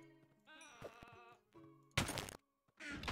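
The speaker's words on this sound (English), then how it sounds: "That was quite a loud goat noise, right?" A goat in Minecraft lets out a short bleat followed by a few quiet game clicks and thunks, then a second louder burst, all close and clear with no talking.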